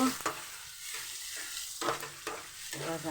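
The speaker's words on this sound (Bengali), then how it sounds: "দেখুন, চিংড়িটাকে কষে নিয়েছি, আলু।" Prawns and potato sautéing in hot oil in a home kitchen: a steady sizzle broken by scraping stirring strokes of a spoon against the pan, close up and fairly loud.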